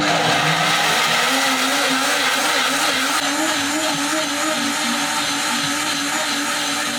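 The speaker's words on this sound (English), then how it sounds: "You just need to blend it straight away and you have your puree." A kitchen blender pureeing cocoyam leaves for Ghanaian kontomre stew, running loud and close with a steady whirring motor pitch that wobbles slightly as the contents churn.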